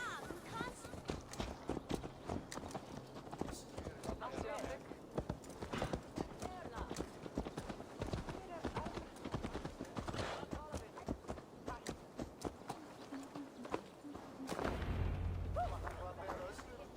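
Horse hooves clip-clop steadily through most of the scene in Assassin's Creed Valhalla, a rhythmic walking gait under game music and ambience, ending with a louder low rumble near the end.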